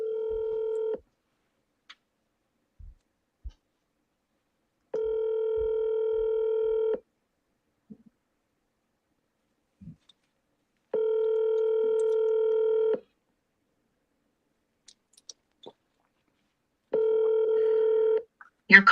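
Telephone call tones sound in four long, evenly spaced bursts, each lasting about two seconds with silent gaps between them, loud and clean with no talking over them.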